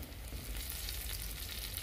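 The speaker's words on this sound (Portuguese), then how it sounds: "E tá aqui fritando mais ainda aqui, ó, com um cafezinho, essa polenta aqui para comer à tarde" Polenta slices frying in hot oil on a wood-burning stove on a farm, giving a steady, close crackling sizzle with dense bright spatter throughout and no speech.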